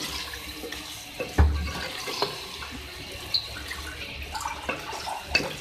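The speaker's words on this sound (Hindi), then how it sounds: "मैं इसमें और मज़ीद पानी ऐड कर रही हूँ" Water is poured into a pot of beef aloo matar keema, a steady gushing splash with a few sharper clinks and drips, close and fairly quiet.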